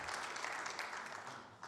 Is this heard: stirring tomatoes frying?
no